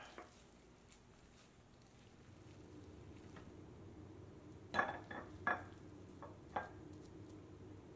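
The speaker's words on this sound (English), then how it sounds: "Now I'm going to go ahead and spoon some out to show you guys what it looks like" A spoon scraping and clinking against a baking dish as cornbread dressing is served, faint and close in a quiet kitchen: three or four brief scrapes and taps after a few seconds of low room hum, with no talk.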